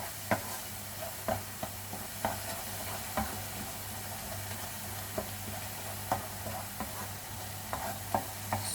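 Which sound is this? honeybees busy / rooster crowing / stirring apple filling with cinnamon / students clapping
stirring apple filling with cinnamon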